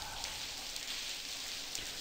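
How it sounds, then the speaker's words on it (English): Steady, hissing rain in the video game The Blackwell Convergence patters continuously, a soft even wash of drops with no voices. "I really like the rain effects here."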